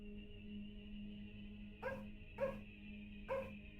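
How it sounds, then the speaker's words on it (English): A dog barks three times outdoors, short and moderately distant, set over a steady droning musical background from a strategy game. "The dog barking outside."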